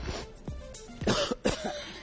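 A person imitates a dry sinusitis cough with several short, harsh hacks and throat-clearing sounds in quick succession, close and fairly loud.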